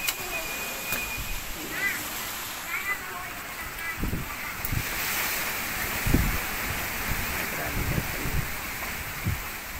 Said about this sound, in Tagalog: Sumaragasa pa rin ng hangin, ng ulan.